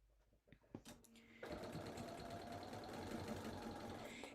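A home sewing machine stitches a seam a little wider than a quarter inch on vintage linen for a box bag, starting after a few clicks and then running in a steady, even hum.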